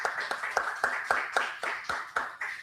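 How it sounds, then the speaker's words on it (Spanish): Sparse, rhythmic clapping from a small group at an economists' day conference, roughly a dozen distinct claps spaced about a quarter second apart, moderately close and modest in volume. "Nuevo aplauso para él también, por favor."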